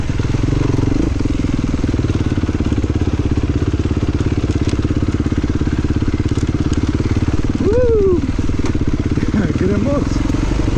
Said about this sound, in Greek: Τι μαρσάρεις ρε, τι μαρσάρεις.